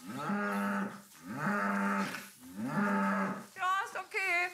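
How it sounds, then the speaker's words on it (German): Dairy cows on a farm mooing loudly and close by, three long drawn-out calls in a row followed by a shorter wavering bellow. "Die Kühe waren aber immerhin von Till richtig begeistert und wurden sogar ziemlich laut."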